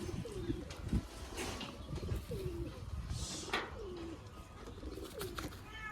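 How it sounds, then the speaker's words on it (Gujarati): Two black pigeons coo repeatedly in soft, rolling calls against a noisy outdoor background, several coos spaced a second or so apart. "બે કબૂતર છે"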